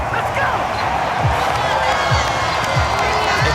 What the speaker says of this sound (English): Cue the applause, and there it is for him.